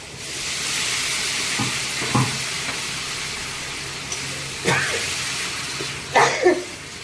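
Dal masala with turmeric, salt and water sizzles in a pan under a steady hiss, with a few sharp stirring scrapes and clinks of the spoon spaced across the clip.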